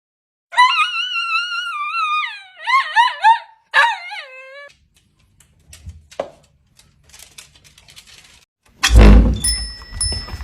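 Several dogs howl and whine in long wavering, rising-and-falling cries for about four seconds while their toys are washed, followed by sparse small noises and a loud, rumbling burst of noise at the end.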